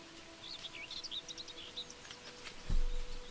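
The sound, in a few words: birdsong sound effect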